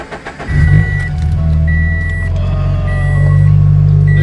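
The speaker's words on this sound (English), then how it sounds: "it's gonna be my last time that I'm gonna start up this car" A car engine cranks briefly with a few uneven starter chugs, then catches and settles into a loud, steady idle hum with a faint electronic chime tone repeating over it.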